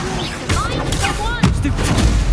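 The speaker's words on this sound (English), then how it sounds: "Incendio!" Incendio fire spell cast in Hogwarts Legacy, loud whooshing bursts and booms amid a busy battle, with layered impacts and swirling effects under a voice.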